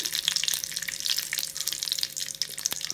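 Mustard seeds spluttering and popping in hot oil while cooking a Kerala lunch, a dense, steady crackle of sharp little pops and sizzling, close and continuous with no talking.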